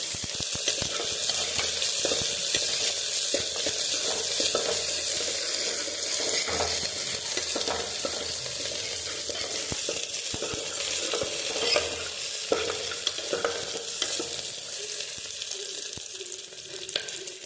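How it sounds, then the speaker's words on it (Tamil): Mustard seeds and onion frying in hot oil for a brinjal dish, a loud, bright, continuous sizzle with scattered crackles and pops and occasional stirring, close and unbroken for the whole stretch, no talking. "எண்ணெய் காஞ்சிருச்சு, கடுகு போட்டுக்கலாம்."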